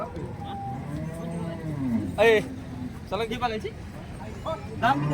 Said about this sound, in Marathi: एकदम मोठ्या मापाची गाय आहे